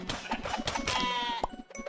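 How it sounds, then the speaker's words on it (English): Sheep bleat in the Necesse video game, several short wavering calls close by over a busy game soundscape, with no one talking. "There's some sheep there."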